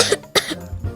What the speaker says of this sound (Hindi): तुम्हें तो खांसी भी है